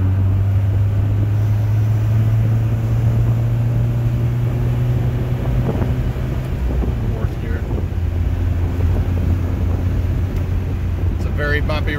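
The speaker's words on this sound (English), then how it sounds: "Bumpy road, but as you guys know, when the Citroen's working properly, it sucks it up perfect." A 1975 Citroen DS23 Pallas, fuel-injected with Citromatic transmission, rolls over a bumpy road, its steady low engine drone and road rumble filling the cabin, with wind buffeting and faint knocks toward the end.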